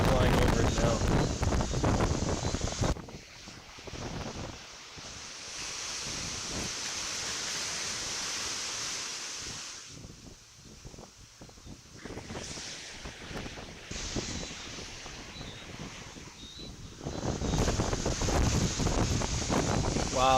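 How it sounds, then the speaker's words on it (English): Strong hurricane wind roars during Hurricane Beryl, buffeting a coastal microphone with broadband rushing gusts that swell loud at the start and end, easing to a steadier lower rush in between, with surf-like noise beneath. "You hear the wind? Yeah, the wind is picking up now."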